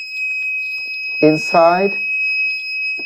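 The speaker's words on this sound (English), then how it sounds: "You see the alarm go on because the light value is more than 100." Arduino Uno light-sensor alarm buzzer sounding as a steady high-pitched tone, constant throughout, with a person talking over it in the middle.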